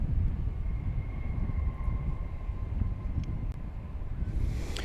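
An American Airlines Boeing 737-800 departs at night at DFW Airport, a distant, rumbling jet roar with a faint engine whine, steady and low under open-air noise.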